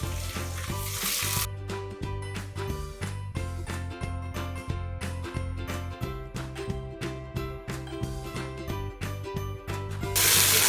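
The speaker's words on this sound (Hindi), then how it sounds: "गोश्त को थोड़ी फ्राई करूँगी तेल में।" Continuous loud sizzling of beef frying in hot oil with garlic-ginger paste, with occasional scraping and stirring of a utensil in the pan.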